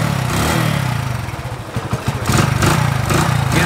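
A second-hand motorcycle at a used-bike dealer starts up and runs, its engine rumbling close and loud, a brief stutter of firing pulses before it settles into a steady idle.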